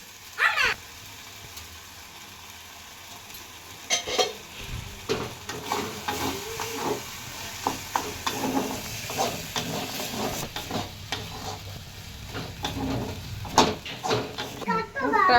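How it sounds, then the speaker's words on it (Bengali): A spatula stirring a boiled shrimp filling in a pan, with scraping strokes over a soft sizzle and hiss, and a person talking intermittently over the cooking. "এবার চিংড়ি মাছটা দিয়ে দিলাম আর একটু নাড়াচাড়া করবো।"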